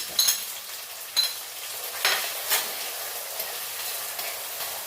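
Shallots and onions sautéing together in a pan with a gentle sizzle, broken by several sharp spatula scrapes and stirring strokes spaced about a second apart.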